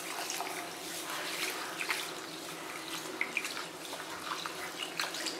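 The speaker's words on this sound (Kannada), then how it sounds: "ಈಗಿದನ್ನೆಲ್ಲ ನೀರು ಹಾಕಿ ಎರಡು ಮೂರು ಸರ್ತಿ ಚೆನ್ನಾಗಿ ತೊಳ್ಕೊಳ್ಳೋಣ" Water splashes and swirls as rice and fenugreek seeds are rinsed by hand in a bowl, a steady close wet sloshing with small sharp splashes and no speech.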